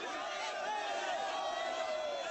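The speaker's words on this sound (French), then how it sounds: "Le service d'ordre des jeunes patriotes a du mal à contenir la foule qui pousse." Crowd of protesters pushing against a line of security at a tense demonstration, a dense, distant roar of many voices blending into a steady wash of noise.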